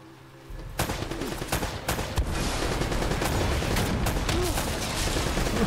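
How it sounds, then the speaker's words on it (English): Sustained automatic gunfire aimed at a Gatling gun in Uncharted: Drake's Fortune, a dense, loud rattle of rapid shots with a few sharper bursts, running continuously and unbroken by talk. "just keep shooting at the Gatling gun"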